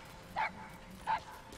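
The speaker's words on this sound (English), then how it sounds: "Thanks for saving me, puppy." Two short, faint whimpering yelps from a puppy in the video game Metal Gear Solid V, evenly spaced over a low hum of background game sound.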